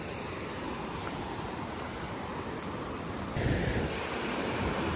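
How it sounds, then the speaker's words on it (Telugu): Water spilling out of the full Shamirpet lake makes a steady, broad rushing roar with wind buffeting the microphone, growing slightly louder toward the end, with no voices. "చూసారా మొత్తం పోతుంది వాటర్ ఫ్లో"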